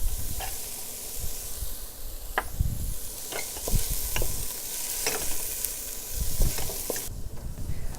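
Carrots and celery hit a hot pan beside grilled chicken paillard, giving a continuous close sizzle and hiss broken by repeated stirring and scraping knocks, with no voices.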